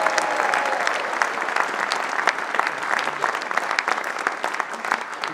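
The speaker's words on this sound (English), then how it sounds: "Let's have a round of applause for Emma and her hats." Audience applause at a comedy folk band reunion concert in a courtyard, a dense, steady clapping from a sizeable crowd lasting several seconds.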